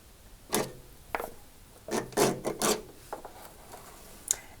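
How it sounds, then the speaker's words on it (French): A heating element is levered out of a Zanussi washing machine with a flat blade and slid free, making scattered scraping and rubbing noises with a few sharp knocks, close by and fairly quiet. "utilisez une lame plate ici, savez-vous, comme levier pour faire sortir la résistance et la glisser vers vous"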